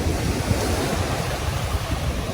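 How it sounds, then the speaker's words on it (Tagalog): Strong ocean waves wash onto Dolomite Beach on Manila Bay, a loud, continuous churning roar of surf mixed with wind rumble on the microphone, with no voices over it. "At ganito nga po kalakas ang alon ngayon. Walang walang tigil."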